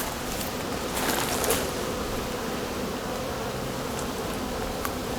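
Honey bees from Buckfast colonies flying at their hives carrying pollen loads, a dense continuous buzzing swarm close by with occasional louder passes.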